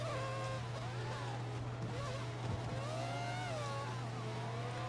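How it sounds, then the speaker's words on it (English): Formula 1 car engine held at full revs in the F1 2014 racing game, 1998 season mod, a continuous high whining drone with shifting pitch sweeps, fairly faint and steady throughout. "He's running full revs, maximum power."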